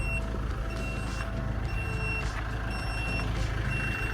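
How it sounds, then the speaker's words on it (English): Door-open warning buzzer in a former prison shuttle van, sounding as a loud, regular chain of electronic beeps repeated right up close over a steady low rumble. "removing that annoying buzzer sound"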